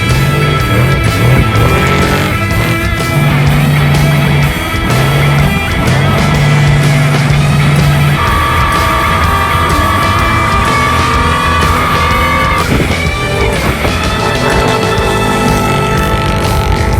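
A Badlands Motorsports trophy truck runs full pace on an off-road test track with fast sections, its engine roaring loud and steady throughout, with rising and falling pitch as it accelerates, shifts and slows.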